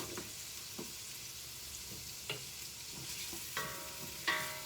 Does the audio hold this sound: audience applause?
no